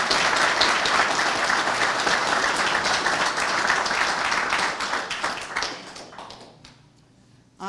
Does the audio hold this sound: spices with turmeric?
no